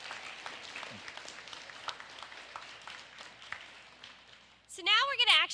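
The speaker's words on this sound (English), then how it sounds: "And if we could again give these students another round of applause for their outstanding attendance." Moderate round of audience applause at a fourth grade school honors program for students with outstanding attendance, steady scattered clapping that ends abruptly in a louder burst of other sound.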